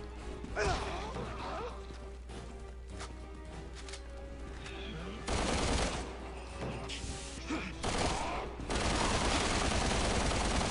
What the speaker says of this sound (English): the MPAF is actually the last machine pistol